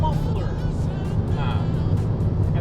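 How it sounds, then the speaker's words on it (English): BMW G87 M2 with an upgraded turbo and aftermarket exhaust and muffler, a steady deep low rumble droning throughout at close range, with someone talking over it. "Exhaust, that's a muffler."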